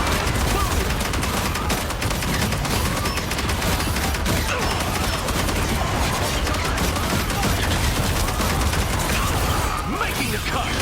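Hawkeye's sonic boom ability in the Marvel Rivals video game on PS5 Pro, a dense barrage of rapid blasts and impacts running continuously throughout at steady loud level, with a voice briefly over the action.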